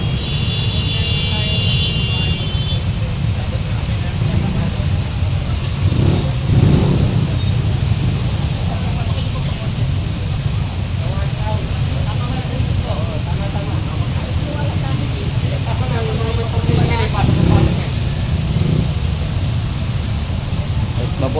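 Jammed road traffic in the Philippines: a steady, loud low drone of engines from cars and buses, with occasional revving swells, while someone talks on and off over the noise.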